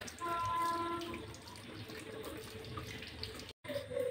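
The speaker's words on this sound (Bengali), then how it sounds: "আর এরপর আমি কাঠিগুলোকে ভালো করে জল দিয়ে ধুয়ে নেব।" Tap water runs steadily over wooden skewers being rinsed, a continuous near splash with faint tonal ringing and a brief dropout near the end.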